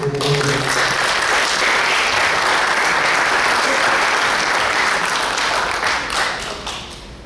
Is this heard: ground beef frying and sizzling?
no